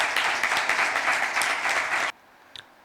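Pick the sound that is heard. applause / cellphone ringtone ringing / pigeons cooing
applause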